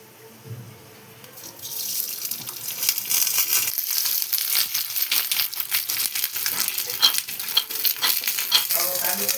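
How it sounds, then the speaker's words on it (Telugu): Peanuts and dried chilies frying in oil in a pan for peanut chutney. It starts quiet, then after about a second and a half a loud, steady, close sizzle takes over and holds to the end, with faint stirring crackles. "పల్లీలు కొన్ని మిరపకాయలు కొంచెం అయితే ఆయిల్ వేస్తున్నాము"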